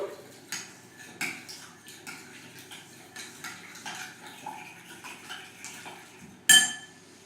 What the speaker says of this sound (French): Continuez en ajoutant l'œuf. Mélangez le tout.